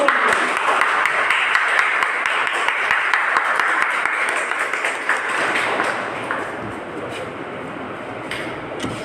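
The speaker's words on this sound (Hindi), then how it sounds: "एक धमाकेदार तालियों से वेलकम करते हैं" An audience at a direct-selling training event welcomes a mentor with loud, sustained applause that fades slightly toward the end, a dense wash of clapping with sharp individual claps standing out.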